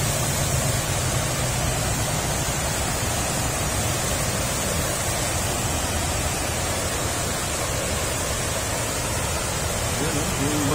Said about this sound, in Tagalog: Lakas ng agos, Grabe tubig